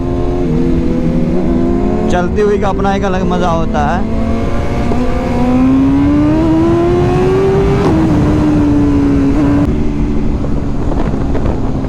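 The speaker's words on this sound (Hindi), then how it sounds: "आवाज़ सुन के मज़ा आया सुपर बाइक की खींचने पे।" A powerful BMW S1000RR superbike engine revs up and pulls hard, its pitch climbing then dropping, with strong wind rush throughout and someone talking over it.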